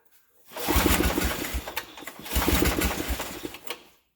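An 8hp Briggs and Stratton engine on a Snapper rear-engine rider mower idles on choke, a close, steady rough putter with fast rhythmic pulsing that starts after a brief pause and dies away at the end, with no talk.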